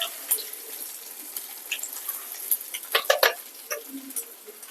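Cumin, curry leaves and garlic frying in hot oil for Punjabi-style kadhi pakoda, a steady close sizzle with bright crackles and spits that grow busier toward the middle.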